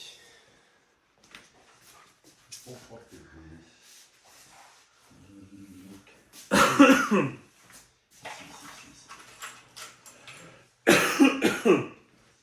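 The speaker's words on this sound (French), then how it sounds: "pourquoi tu tousses?" Two loud bursts of harsh coughing, each a rapid cluster of hacks, break through quieter background talk and muffled sounds during a tabletop wargame.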